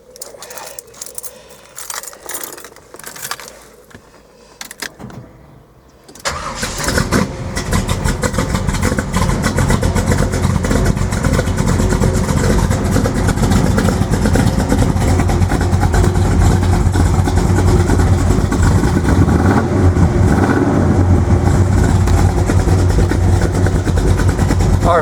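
A 1971 Chevelle SS with a 502 big block V8, running a little cold, cranks and fires after a few seconds of quieter handling noises, then settles into a loud, deep, rumbling idle that holds steady.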